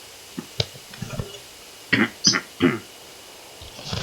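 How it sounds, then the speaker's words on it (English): Several short, rough throat-clearing bursts up close, a few quiet ones followed by three louder grunts in quick succession. "Clear my throat there"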